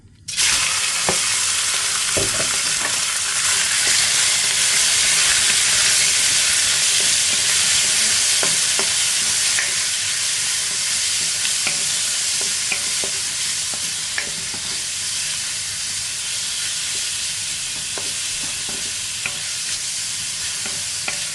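Spaghetti with beef and vegetables stir-fried in a very hot wok with sesame and garlic oil, a loud continuous sizzle with scraping stirs and clanks of the utensil against the metal, steady throughout with no talking.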